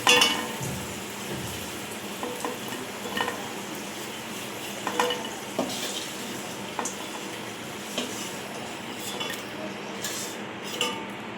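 Cumin seeds, dried red chillies and bay leaves crackle and sizzle in hot oil for a Bengali mung dal tempering, a steady close frying hiss with scattered pops and a few utensil clinks.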